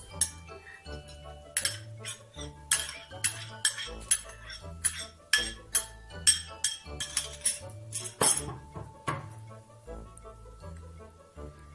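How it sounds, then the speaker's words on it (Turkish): A metal utensil scrapes and clinks against a cooking pot while corn is stirred, a steady run of sharp clicks and knocks close by, with no talking. "ve karıştırmaya başlıyoruz."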